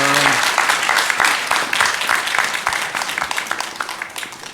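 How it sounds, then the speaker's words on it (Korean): A church congregation claps in praise during a Sunday morning service, a loud burst of many hands that thins into scattered individual claps and fades over a few seconds. A voice is heard briefly at the very start. "영광의 박수를 우리 하나님께 올려드리겠습니다."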